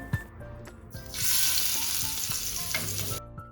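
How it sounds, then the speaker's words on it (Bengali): Frozen fish pieces fry in hot oil, a sudden loud hiss and sizzle that swells after a few clinks and thumps of handling, then settles into steady crackling. "যেহেতু এগুলো ফ্রোজেন মাছ তাই জন্যে রান্না করছি মানে ভাজা করছি"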